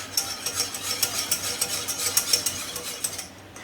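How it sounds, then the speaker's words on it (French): Whisk scraping and stirring a flour roux as it cooks in a pan for homemade lasagne, giving a steady run of quick rhythmic metallic strokes with a faint sizzle underneath. "N'hésitez pas à la refouetter un petit peu."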